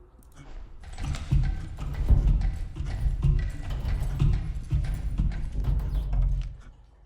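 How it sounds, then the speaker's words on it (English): Footsteps of Entity B in a video game, a series of heavy, muffled thuds in an irregular plodding rhythm, close and fairly loud with no talk over them. "I hear the footsteps again"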